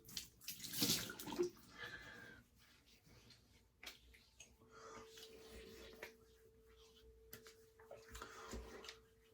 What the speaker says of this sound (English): Nice hot water rinse.